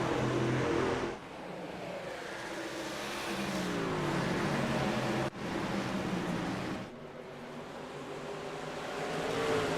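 Race trucks at Richmond in the iRacing simulator roar in a dense pack, a steady loud engine drone rising and dipping as they pass, with brief drops in level between passes.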